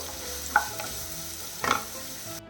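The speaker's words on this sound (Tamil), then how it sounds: "அதையும் சேர்த்து வதக்கிடலாம் மீடியம் ஃப்ளேமில் வச்சுக்கோங்க வெங்காயம் நல்லா வதங்கட்டும்" Chopped big onion sautés on a medium flame with a constant, moderate sizzle, and a spatula scrapes and clinks against the pan twice.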